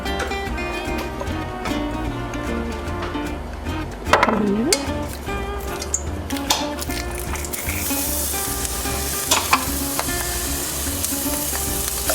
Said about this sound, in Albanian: Do ta lëmë që të skuqet pak hudra, që t'i japi vajit ullit aromën